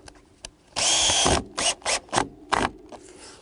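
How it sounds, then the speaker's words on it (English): A power drill whirs in short bursts while driving a final screw into a wooden base: one longer run, then several quick pulses, close and fairly loud. "I'm just putting in the last screw on this base"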